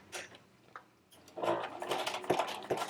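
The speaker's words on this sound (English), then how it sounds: "This is standard sewing machine foot, standard straight stitch, and regular just universal needle." A sewing machine with a standard straight-stitch foot and universal needle runs on vinyl fabric, a faint start followed by a quick mechanical whir of rapid stitching, close and fairly quiet.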